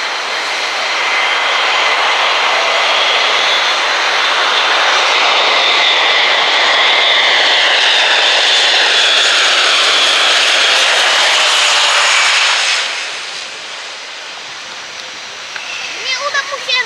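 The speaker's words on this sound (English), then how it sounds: "captain Tony Flynn and co-pilot John Taylor, coming into land after a typically exciting demonstration from Airbus Defence Space of the Airbus A400M." Airbus A400M military transport aircraft coming in to land at an airshow, a loud sustained propeller-turbine roar that holds steady for about twelve seconds, then drops away sharply, leaving a quieter fading rumble.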